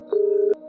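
A cartoon telephone gives one steady, clear electronic tone lasting about half a second, sharply cut off at both ends in an otherwise quiet scene.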